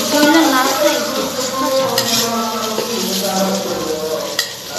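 Fried eggplant being stirred and lifted out of a rice cooker used like a stove, with steady close scraping and clinking of a utensil against the pot over a soft sizzle, no talk.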